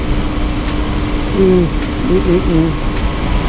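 Trains rumbling through Tokyo heard as a steady, continuous low roar of passing rail traffic from a distance, with faint rising and falling tonal whines and occasional clicks throughout.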